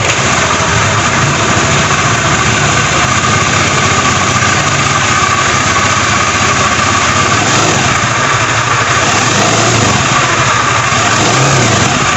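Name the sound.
Honda Beat FI motorcycle engine revving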